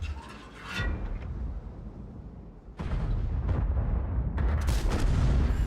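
Tank cannon fire in the World of Tanks video game, a 50TP Prototyp in battle: a booming shot at about 0.8 s, then heavy broadband blasts and rumbling gunfire from about 2.8 s on, loud and continuous.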